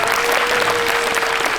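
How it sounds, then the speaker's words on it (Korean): A short burst of dense audience applause at a film Q&A event, steady and moderately loud throughout, with many hands clapping at once. "그럼 박수 한번 보내주세요"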